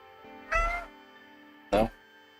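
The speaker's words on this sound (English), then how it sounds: "Don't just meow at me." Big orange pet cat meowing twice, two clear, close meows about a second apart over a quiet background hum.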